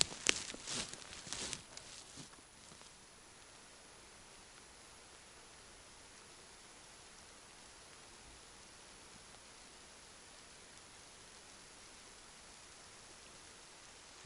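Rain falls steadily in a pine forest during a mushroom hunt, a soft, constant wash of hiss after a few early rustles and footsteps, with no talking.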